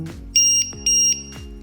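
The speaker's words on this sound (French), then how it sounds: "ça va sonner très fort. C'est normal, c'est parce qu'il va biper pour me dire la tension" A battery voltage checker for a Worker Nightingale Ultra blaster sounds two loud, sustained electronic beeps in quick succession after being plugged in, each a clean high tone, heard alone over a faint hum.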